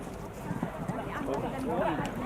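Hooves of a four-horse team pulling a carriage at a driving championship in Donaueschingen beat in quick, uneven clip-clops on the ground, fairly close, under a commentator talking and crowd noise.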